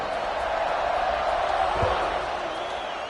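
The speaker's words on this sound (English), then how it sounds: "this crowd is buzzing after that last score" Broad, steady roar of a football stadium crowd buzzing after a score in a college football video game, a dense wash of many voices at an even level throughout with a faint thud near the middle.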